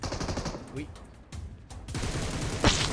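Gunfire in the PUBG Mobile game on the Sanhok map, with dense bursts of automatic shots through most of the clip, a short lull, then renewed firing and one sharper, louder report near the end.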